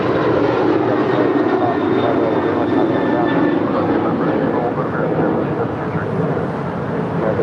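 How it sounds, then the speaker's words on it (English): A six-year-old United Airlines Boeing 737-900ER departing LAX for Cancun, its engines producing a loud, steady broadband roar that holds throughout, with a faint high whine over the top. "This is United Airlines 1608 departing to Cancun. It's a 6-year-old 737-900 ER."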